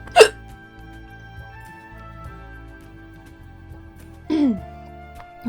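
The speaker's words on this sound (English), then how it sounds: "I got the hiccups all of a sudden" Two sudden, sharp hiccups, one at the start and another about four seconds later, each a short, close vocal gulp against quiet game music.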